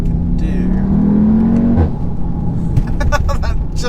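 A 2017 Audi TTS with magnetic ride suspension accelerates hard along a narrow B road, its engine note climbing steadily and loudly before a gearshift, followed by sharp pops and crackles from the exhaust.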